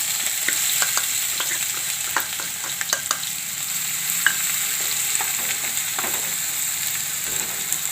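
Onion frying in a pan with tempering spices and chilies, a constant close sizzle broken by frequent sharp scrapes and taps of a spoon stirring, busy and even throughout.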